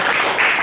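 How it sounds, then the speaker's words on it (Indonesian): A school class claps briefly after a lesson presentation, a quick, close flurry of many hands under a teacher's direction, lasting well under a second. "Oke, tepuk tangan dulu semua"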